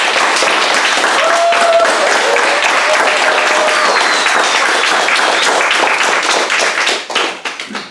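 Guests at a wedding toast break into sustained applause, a dense, loud wash of many hands clapping that thins into scattered claps at the end, with faint voices beneath.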